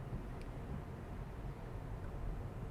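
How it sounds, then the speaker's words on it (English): Faint, steady tyre rumble on the road fills the cabin of a Honda City hatchback RS e:HEV driving in silent EV mode, a soft low roar with no engine note. "whatever sound you hear is actually the tires on the road."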